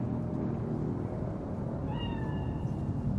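A cat meows in Cyberpunk 2077, a single drawn-out, plaintive call rising over a dense, steady background rumble, fairly close and clear.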